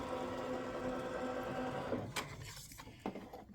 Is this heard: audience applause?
no